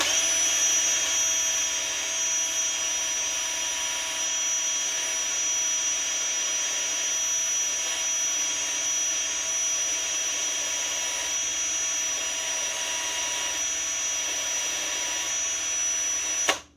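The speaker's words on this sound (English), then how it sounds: "chuck it up in a drill, take yourself a file" A drill spins a 5.7x28 brass cartridge case against a file, whining steadily at high speed as metal grinds, a constant loud buzz that cuts off abruptly at the end.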